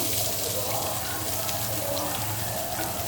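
Chopped onions, two medium ones, drop into hot oil where cumin seeds have already fried, for a dum aloo curry, setting off a loud, dense, steady sizzle that fills the whole moment.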